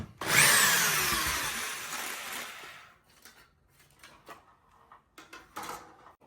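A power drill spins out screws from an old smoke detector mounting plate, one loud sustained whirring run of about three seconds, then quieter clicks and handling taps.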